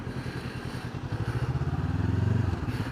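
A Honda CB500X motorcycle engine runs close and steady as it is ridden, its low pulsing drone climbing in revs before easing slightly, with no talk over it.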